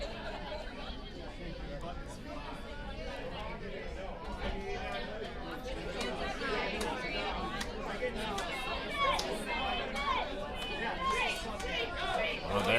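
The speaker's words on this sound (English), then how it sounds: "So they're hearing the entire crowd right now." Steady crowd chatter fills the arena at a curling match, a dense murmur of many voices that swells slightly over time, with someone talking over it.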